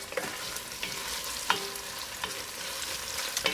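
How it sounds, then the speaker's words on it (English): Chopped onion sizzles steadily in a hot pan, a constant frying hiss broken by occasional spoon stirs and scrapes, close and moderately quiet with no talking. "we're going to saute this onion until it's translucent, slightly brown"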